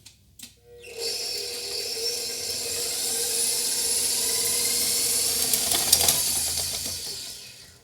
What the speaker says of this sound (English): we're going to beat this with our paddle until it's really light and fluffy